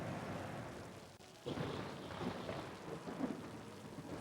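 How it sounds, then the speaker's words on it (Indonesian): Steady rain falls outdoors as a soft, continuous hiss with a brief dip in the middle, faint and distant, with no voices over it. "Berhubung hari hujan."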